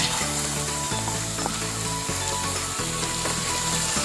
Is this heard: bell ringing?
no